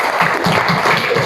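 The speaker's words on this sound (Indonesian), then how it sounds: "Tepuk tangan untuk kelompok 1 ya." Applause from a group of people at a morning session for the first group: dense, steady clapping throughout the short moment, fairly loud and close.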